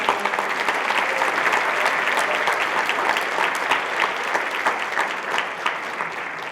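Audience at a high school winter concert applauding the chorus, percussion and orchestra, a long steady wash of dense clapping with no voices standing out.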